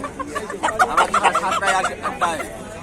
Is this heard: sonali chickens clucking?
yes